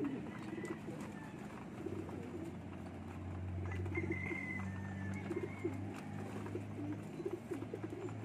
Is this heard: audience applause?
no